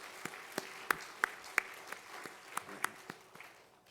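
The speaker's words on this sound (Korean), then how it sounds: "박수 한번 하겠습니다" A church congregation at a Sunday service claps in a sparse, fairly distant round of applause, with individual claps standing out as separate sharp hits before it thins away.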